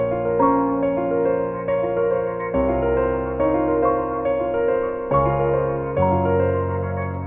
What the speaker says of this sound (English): I also have some Valhalla vintage verb on this. So yeah, this with the piano sounds like this.